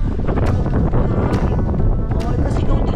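Strong wind blows outdoors in a garden, roaring steadily and buffeting the microphone for the whole stretch, with a voice faintly underneath.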